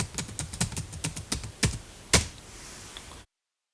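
Keyboard typing of a login user ID and password in an SAP system, a steady run of close, sharp key clicks ending with one louder stroke, over faint room hiss, no speech.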